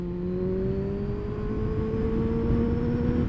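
A Honda CBR 600 motorcycle engine is held at full throttle with a fluttering fault. It makes a loud, close, continuous roar whose pitch climbs slightly, with no talk.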